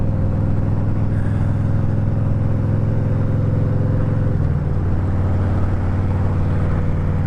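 A red Harley-Davidson motorcycle rumbles steadily at close range while being ridden, a deep low engine drone whose pitch drops and shifts about midway through.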